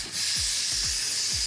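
Steam rises off a pot of cooked octopus just after the heat is turned off, a loud continuous hiss close by, broken by a few soft low thuds.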